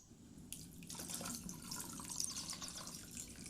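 Boiled drinking water is poured over drained ingredients while preparing a chilled dessert drink, a steady close splashing and trickling that runs continuously without any voices.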